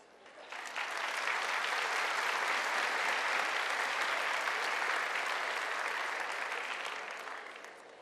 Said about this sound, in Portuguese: Gostaria que vocês se aplaudissem.